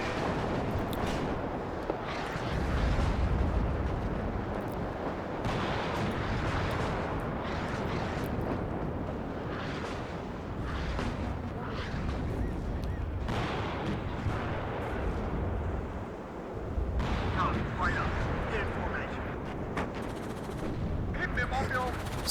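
Artillery and rocket explosions crash through a WARNO battlefield in a dense, continuous barrage, with booms and gunfire overlapping for the whole stretch under occasional talk.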